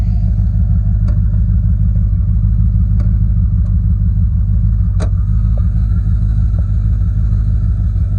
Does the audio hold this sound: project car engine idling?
yes